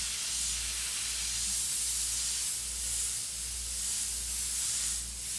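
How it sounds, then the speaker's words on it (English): A paint airbrush sprays fur strokes on a lion's jaw artwork, giving a steady airy hiss with a low compressor hum pulsing underneath, continuous and fairly close. "Get that airbrush swinging."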